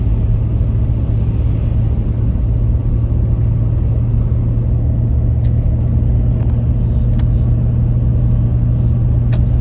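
Toyota 100 Series Landcruiser with the 1HDFTE turbo diesel and a new fuel system accelerating on a road, heard from inside as a loud, steady engine drone and rumble with road noise, not at full throttle.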